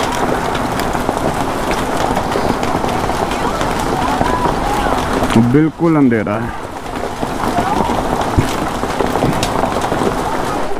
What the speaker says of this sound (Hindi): आधा घंटा से ऊपर हो गया, अभी भी ओले पड़ ही रहे हैं।